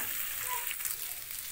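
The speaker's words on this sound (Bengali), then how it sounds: "দিয়ে খুব ভালো করে মিশিয়ে নিচ্ছি তেলের মধ্যে, আর খুব ভালো করে এগুলোকে ভেজে নেব" Okra frying in hot oil in a pan while being mixed, a steady close sizzle with light stirring scrapes, continuous and unbroken.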